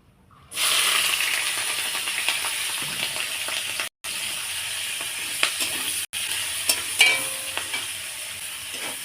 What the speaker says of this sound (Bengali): এবার কেটে রাখা এই যে পেঁয়াজ আর এই যে কাঁচা লঙ্কা চিরাটা এটা দিয়ে দেবো তেলের পরে।